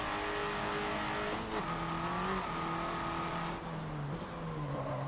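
The 1.6-liter turbo engine of a Hyundai Veloster in a racing video game drones steadily, its pitch rising and dipping with gear changes and throttle, loud and alone with no talk.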